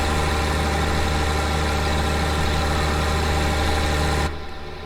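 A car engine idles steadily at close range, a constant low rumble with a slight knock, cutting off abruptly near the end to a quieter hum.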